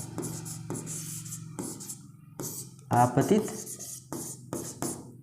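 Chalk or marker scratching on a board during a physics lesson, short strokes recurring between and under a man's steady explanatory speech.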